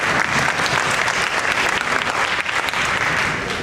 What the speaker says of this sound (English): please give a thunderous round of applause for Harshal